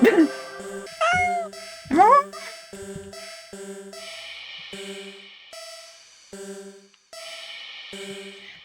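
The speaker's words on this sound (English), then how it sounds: "The cat sounds happy." Several short meows from a cat in a video game, close and fairly loud, over a sparse, repeating electronic tone pattern.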